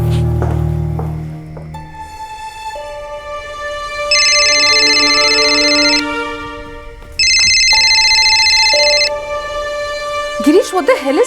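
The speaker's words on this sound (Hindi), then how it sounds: "गिरीश फोन क्यों नहीं उठा रहा है?" An electronic ringtone plays in bright, sustained melodic tones, loudest in two long bursts, with a short noisy sound at the start and end.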